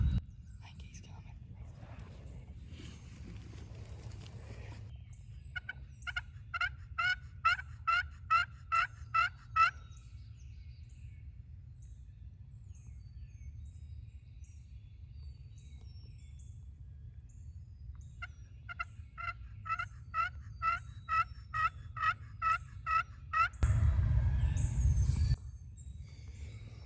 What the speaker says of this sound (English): They're gobbling like crazy